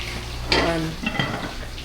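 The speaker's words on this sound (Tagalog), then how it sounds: "Nagprito na kami ng aming isda." Fish frying in oil, a soft hissing sizzle at moderate volume with a few brief bright crackles and faint clinks across a short stretch.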